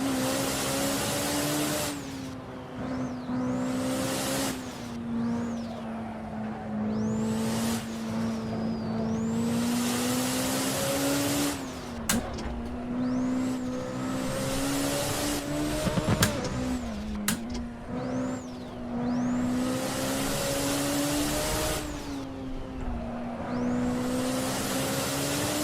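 A race car in the driving game Assetto Corsa runs continuously, its engine droning and rising and falling through gear shifts, with tire squeal and bump noises, loud and steady throughout with no voices.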